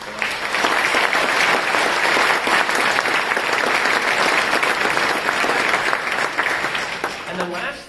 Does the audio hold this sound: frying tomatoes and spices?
no